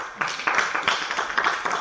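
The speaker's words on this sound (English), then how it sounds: "Round of applause" A small group in a classroom claps briefly, a short burst of irregular, close handclaps lasting under two seconds.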